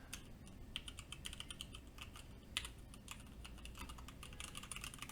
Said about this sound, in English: I'll do a little bit more typing here.